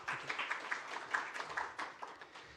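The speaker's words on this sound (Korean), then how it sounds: "자, 그럼 여러분 큰 박수로 맞이해 주십시오" Scattered clapping from a workshop audience welcoming a presenter, a steady patter of individual claps at moderate distance with no voices over it.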